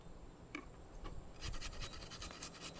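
Garlic cloves being grated into a paste: quiet, quick scratchy rasping strokes close by, growing into a steadier rhythmic scraping in the second half, faint overall.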